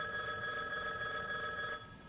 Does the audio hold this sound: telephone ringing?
yes